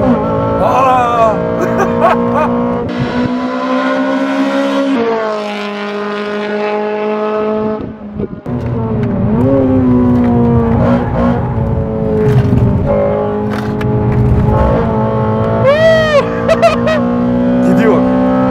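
A Honda Civic Type R on a race track, its engine loud and close, revving and climbing through gears with brief dips between shifts, while people talk over it throughout.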